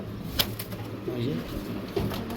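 Restless pigeons offered for sale give a few soft, low coos close by, with short calls around the middle and near the end over a steady background hiss.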